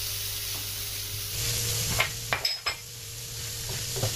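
Onion and garlic sauté in a pan with a continuous soft sizzle, broken by a few sharp utensil clinks and scrapes against the pan midway, close up and with no one talking.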